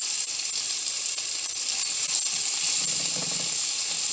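Vegan sausages sizzle in a pan alongside browned potatoes, a steady bright hiss of frying fat holding even for the whole stretch with no talk over it.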